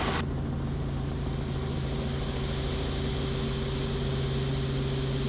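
Robinson R44 helicopter engine and rotor heard from inside, a loud steady drone with strong tonal hum and broadband rush, continuous and unchanging throughout.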